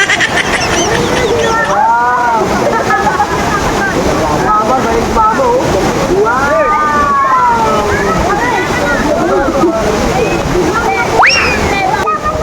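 Seawater sloshing and splashing around people wading in the shallows, a continuous loud wash close by, overlaid with lively voices and shrieks of people talking and calling out.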